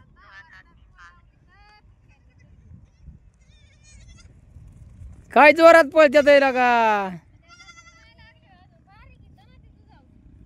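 Goats bleat in a loud harmonic burst of several calls lasting under two seconds, surrounded by quiet conversation in Marathi.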